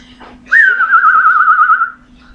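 A pet bird gives one long, wavering whistle that warbles steadily up and down before trailing off, loud and close, with a faint voice in the background before it.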